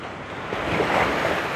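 Ocean waves wash onto a beach in a steady, loud rushing surf that swells slightly midway, mixed with wind buffeting the microphone.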